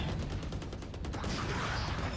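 Rapid gunfire from a pro Valorant match between Fnatic and BBL, a fast rhythmic burst of close, loud shots running continuously into a brief dense volley.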